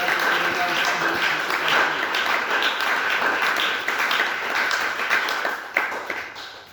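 A church congregation applauds in a sustained wave of clapping and tapping that carries on for several seconds, with voices mixed in beneath it.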